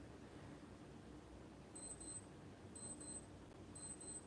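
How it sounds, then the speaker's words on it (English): A smartwatch alarm beeps faintly in quick double chirps, repeating about once a second over a low room hum. "Sorry about that beeping. I have a watch over there going off."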